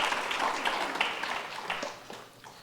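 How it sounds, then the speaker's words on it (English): Audience applause at an anniversary gathering of the Arsha Vidya Gurukulam, honouring the maintenance and housekeeping team: a short burst of moderately loud, dense clapping from a room of people, fading slightly toward the end. "So you can please give a big round of applause to them."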